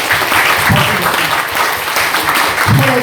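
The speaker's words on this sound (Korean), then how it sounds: "대장님 박수" Soldiers at a battalion military worship service clap for their commander, a dense sustained round of applause filling the room with faint voices mixed in.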